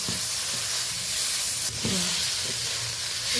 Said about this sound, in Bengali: পেঁয়াজ কাঁচা লঙ্কা টমেটো ফোড়নের সাথে ভালো করে নেড়ে নিচ্ছি